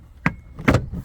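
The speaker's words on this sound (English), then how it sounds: "we'll go ahead and snap that back in, push that back in place" A trim panel clips back into place on a 2017+ Chrysler sliding door, giving two quick, close plastic snaps about half a second apart.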